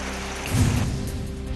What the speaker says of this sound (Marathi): चिपळूणमध्ये मुसळधार पाऊस.